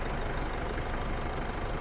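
An Isuzu D-Max 1.9 pickup truck's diesel engine idles steadily nearby, a continuous rumbling chug with no voices.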